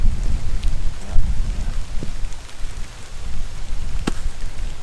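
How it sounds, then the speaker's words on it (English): Steady rain with wind, a dreary drizzle under gusts, forms a continuous rushing wash with low rumbling and a few brief sharp taps, with no speech. "This dreary, wet drizzle's been going on for hours."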